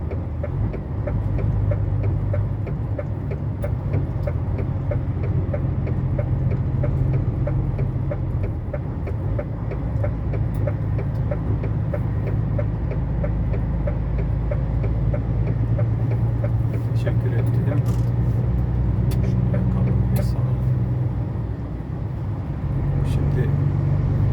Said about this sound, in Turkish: Bu arada bayağı bir trafik var arkadaşlar şu an yolda.